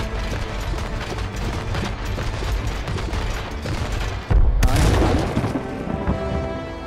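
Cannon fire and booming blasts in a ship battle from the It Takes Two video game sound over a dense rumbling game soundscape, with one sharp loud impact near the end.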